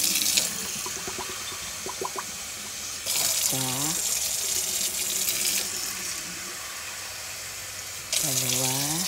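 Tap water runs into a container while preparing puto rice cakes, a steady gushing stream that stops and then starts again, with a person talking over it.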